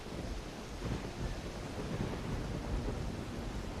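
Thunderstorm in the Risen video game, with a steady, loud, low rumble of thunder mixed with rain and wind noise, continuous for the whole stretch with no talking.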